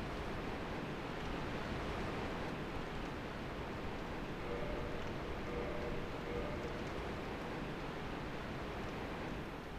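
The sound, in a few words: waterfall in Dark Souls video game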